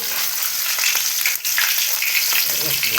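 Pabda fish fry in hot oil with a dense, loud crackling sizzle that stays steady throughout, dipping briefly once, with faint stirring and no speech.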